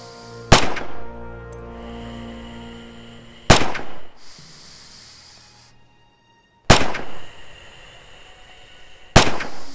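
Four loud, sharp rifle shots ring out at the firing range of the Rising Storm game's training course, spaced a few seconds apart. Each crack is followed by a short echoing decay, and a low ambient hum fills the gaps between them.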